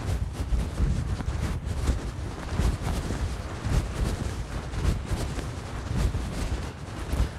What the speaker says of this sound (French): je suis désolée parce que le vent se lève.